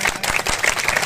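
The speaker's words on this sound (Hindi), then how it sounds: "विशेष इनके लिए एक बार जोरदार ताली बजाएं" Brief applause from a crowd at a Gondwana community speech gathering, a short burst of dense clapping close by with no talk over it.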